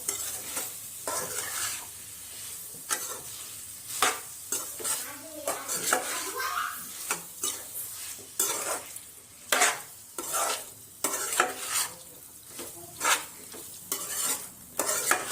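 Cauliflower and pea curry stirred and fried in a pan, a low steady sizzle broken by frequent scraping and knocking of a spoon against the metal, irregular bursts of stirring close by, with no talking.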